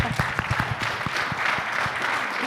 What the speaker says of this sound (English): I think they deserve some applause for this.